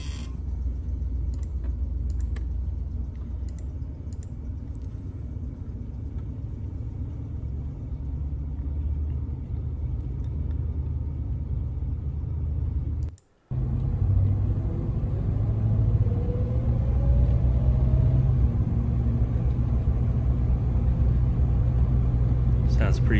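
A 1976 Cadillac Fleetwood Talisman V8 idling steadily on a cool morning right after a cold start, a deep, even rumble heard close up with a brief break midway.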